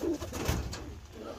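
A racing pigeon coos in a loft, a short, soft, throaty burble close by with faint room noise around it.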